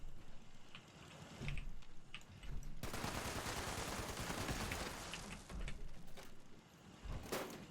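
Automated turrets fire in Fallout 76, a steady rattling burst of rapid gunfire that runs for several seconds, framed by scattered shots and mechanical clicks, with no talking.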